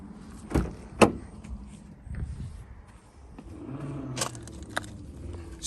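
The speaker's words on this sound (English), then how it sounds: "Just see power fold mirrors there" Power-folding door mirrors on a 2013 BMW X6 3.0d M Sport whir briefly, with a couple of sharp clicks and thumps and a low motor hum in a quiet parked car.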